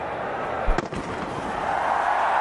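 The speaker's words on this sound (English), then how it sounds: "Got fireworks in the background." Fireworks burst at a cricket stadium during a 2015 India versus South Africa one-day international, a sharp bang followed by a few crackles over steady crowd roar.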